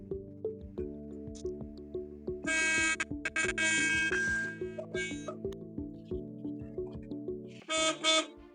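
Vehicle horns honk repeatedly, several short blasts and a few longer loud ones, among other engine-like tones in a busy outdoor setting.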